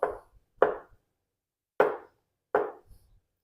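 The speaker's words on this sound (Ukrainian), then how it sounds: "нарізаю авокадо." A kitchen knife cuts an avocado with four separate, crisp chops against a board. Each cut lands close and moderately loud and is followed by short silent gaps, with no talking.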